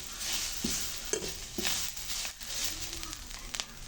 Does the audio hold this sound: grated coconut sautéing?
yes